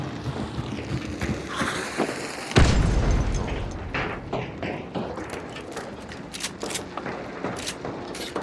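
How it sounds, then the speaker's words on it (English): A heavy grenade blast booms suddenly in a video game firefight, loud and close, its rumble decaying over several seconds amid scattered thuds and pops, with no talk over it. "Throwing grenades."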